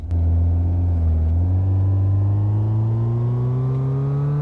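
Car engine with a hole in the exhaust revving steadily upward in first gear, a loud, raw, droning rumble that climbs gradually in pitch, close and continuous with no talk.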